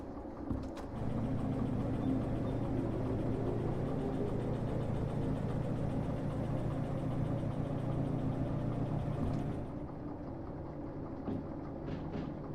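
A DH4 heavy diesel-hydraulic locomotive in the Derail Valley video game pulls away with a steady, low engine drone. The drone holds for several seconds, then drops off sharply, leaving a quieter hum.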